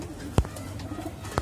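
Paired breeding pigeons, Madrasi and Punjabi breeds kept in a loft in Sultanpuri, Delhi, give a couple of short, low coos over quiet background noise.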